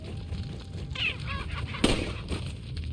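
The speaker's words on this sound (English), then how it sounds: "Wanna shoot that chicken." A chicken in the video game Resident Evil 4 gives a short squawking cluck over steady background ambience, followed by a sharp sudden impact-like burst.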